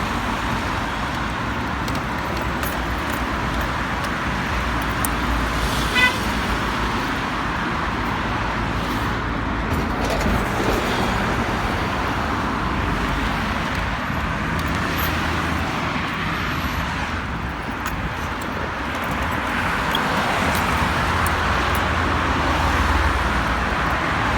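Motorway traffic passing on a Turkish highway, a continuous broadband rush of vehicles at moderate distance with steady tire and engine noise, slight swells as cars go by, no voices.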